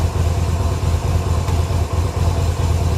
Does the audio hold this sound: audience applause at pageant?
no